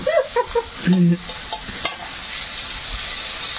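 Green chili, onion and garlic in a pan, a few sharp metallic stirring clanks at the start giving way to a steady soft sizzle of frying that continues to the end.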